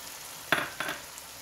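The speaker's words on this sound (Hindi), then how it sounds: "टमाटोज़ ऐड करने के बाद इसको हम मज़ीद भूनेंगे।" Beef mince with tomatoes fries quietly in a pan, a low sizzle with two brief stirring scrapes close by, no one speaking.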